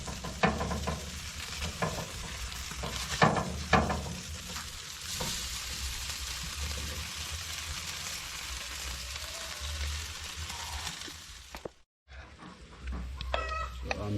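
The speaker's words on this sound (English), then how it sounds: "so I'm just frying the breadfruit now." Slices of breadfruit fry in hot oil in a pan, a steady close sizzle running throughout alongside Jamaican jerk hog head cooking, with occasional clatters of tongs and a brief cut near the end.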